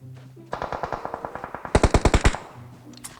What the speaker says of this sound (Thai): ใครยิงอ่ะโอ้ย เราโดนแล้ว